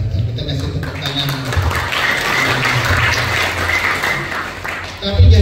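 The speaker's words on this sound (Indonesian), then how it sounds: "Kita kasih tepuk tangan." An audience at a public lecture at a Buddhist college in Wonogiri claps in a broad, sustained wash. A voice talks over the clapping, and a louder thump comes near the end.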